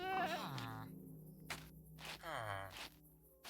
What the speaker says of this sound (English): I do hear goats though.